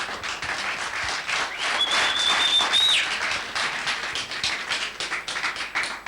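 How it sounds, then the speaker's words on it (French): Studio audience clapping in thanks to the Lord on a French-language television program, a lively, uneven burst of applause with distinct individual claps and a brief high whistle partway through. "on applaudit pour remercier le Seigneur"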